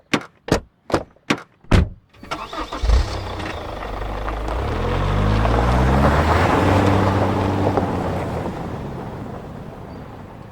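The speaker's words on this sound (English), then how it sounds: "then speed away in Pearl's car." A few sharp knocks, then a car engine starts and revs, its rumble swelling and fading as the car pulls away.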